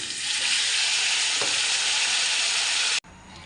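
Broccoli drops into a hot pan with cumin, asafoetida and turmeric and sizzles loudly in a steady, dense hiss. The sizzle falls sharply quieter near the end.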